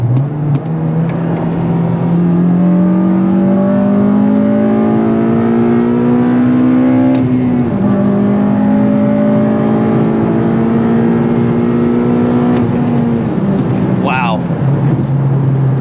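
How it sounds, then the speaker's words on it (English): An 8th gen Honda Civic Si engine revs up loudly and close, climbing smoothly in pitch into VTEC. It drops back briefly, then rises again, ending with a quick falling blip. "let's do a little more VTEC action"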